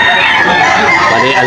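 A Golden Boy stag rooster crowing at a poultry market in Bocaue, Bulacan, one loud, close, sustained crow filling the moment, with voices blending in underneath.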